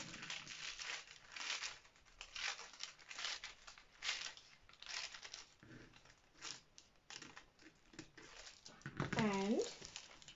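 Scissors cutting a paper sewing pattern along a line for a dart manipulation design, with crisp crinkling and snipping running steadily throughout under intermittent talk.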